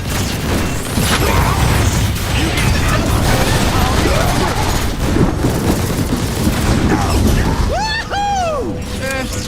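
Sci-fi weapon fire from Transformers: War for Cybertron, a dense, loud barrage of blasts and crashes running throughout, with whooping laser-like zaps near the end.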